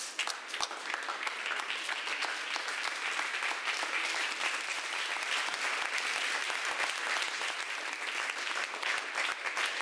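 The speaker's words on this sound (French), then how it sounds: "J'aimerais qu'on puisse se tenir debout et acclamer le Seigneur pour sa parole." A church congregation stands and applauds the Lord during a worship service, a steady, dense wash of clapping that stays loud and even from start to finish with no speech over it.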